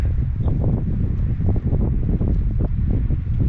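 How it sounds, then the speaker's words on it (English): Strong wind buffets the microphone at a cold mountain viewpoint in the western United States, a loud continuous rushing roar with gusty pulses and no voices. "the wind makes it feel like 30s, I think"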